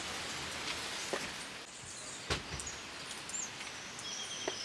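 Rain falls on a farm in rural Colombia as a steady, close hiss of drops on surfaces, with scattered louder drips and faint bird calls in the background.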